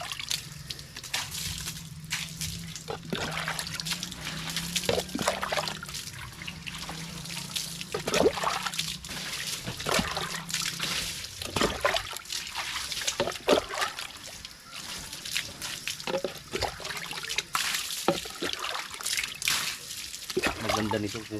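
Freshly drawn water trickles, splashes and sloshes while sand is rinsed off, in irregular bursts that come and go. Speech runs over the water sounds at times.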